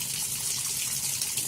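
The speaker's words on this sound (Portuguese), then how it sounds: "Essa é a pressão da torneira onde estava instalado o filtro." A household tap that had a reverse osmosis filter fitted gushes water at mains pressure, a steady, fairly loud hissing rush with no pauses and no talk over it.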